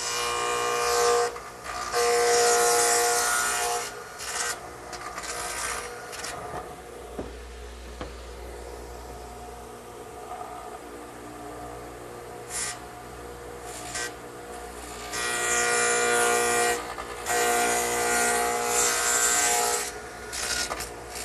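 A radial arm saw fitted with a dado head cutter cuts rabbets into short wooden pieces for a rustic coffee table, a loud broadband whining roar that rises and falls in several passes between quieter idling stretches.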